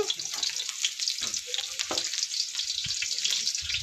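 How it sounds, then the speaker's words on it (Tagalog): Ginger and onion sautéing in a pan, a bright hissing sizzle with intermittent stirring scrapes and clatter, moderately close, without speech. "Ayan, igisa. Igisa nyo po."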